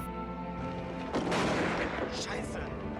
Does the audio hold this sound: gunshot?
yes